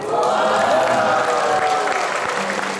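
A church fellowship gathering's audience applauds and cheers steadily and fairly loudly for two women about to perform with guitar, with voices calling out over the clapping.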